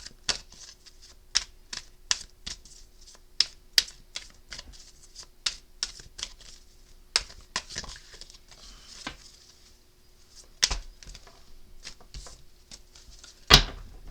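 Tarot cards being shuffled and drawn: a series of crisp, close card snaps and flicks at uneven intervals over a quiet background, with a couple of louder slaps near the end.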